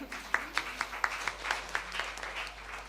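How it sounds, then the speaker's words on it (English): Light, sparse clapping from a small group, a handful of distinct claps in an uneven rhythm, fairly faint. "round of applause"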